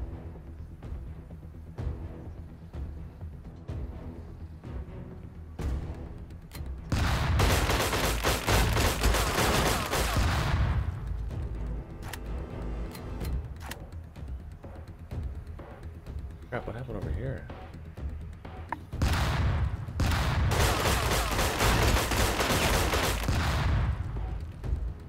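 Gunfire in the tactical video game Lethal Tactics, bursts of rapid automatic shots in two heavy volleys separated by quieter stretches of scattered single shots, loud and up close, with a voice talking at times.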